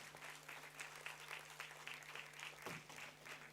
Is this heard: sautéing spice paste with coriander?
no